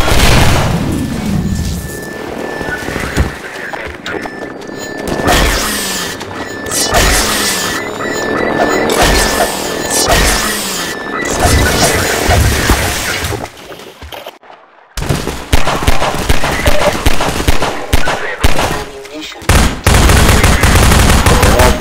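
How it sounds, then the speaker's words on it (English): Rapid bursts of gunfire and heavy impacts from Half-Life 2 gameplay, loud and dense throughout with crashes and booms, a short near-silent gap midway before the shooting resumes. "gunshots tend to drown me out."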